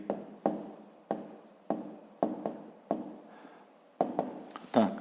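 Numbers written by hand with a pen on paper: a series of short scratching stroke bursts, about eight distinct groups, close and moderately loud, with no talking.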